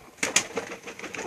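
Pigeons in a breeding setup coo softly with one or two brief flutter-like bursts, fairly close and faint.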